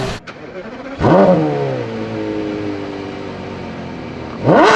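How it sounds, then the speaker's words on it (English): A Porsche Carrera GT with a naturally aspirated V10 and twin exhaust revs sharply, fades, and holds a falling, whining engine note before a second rev rises again at the end, close and loud. "Porsche Carrera GT can produce a mesmerizing sound from its twin exhaust pipes"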